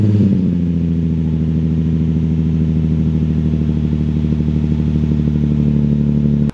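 A Nissan 350Z with its factory Y-pipe exhaust starts up and settles into a loud, steady, throbbing idle, heard close and continuous with no talking.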